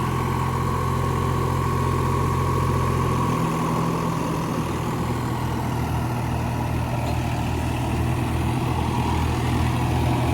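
A Farmtrac 45 tractor engine runs loud and close at a steady idle. Its low throb shifts slightly in pitch a few seconds in, then holds a constant diesel rumble with no one speaking.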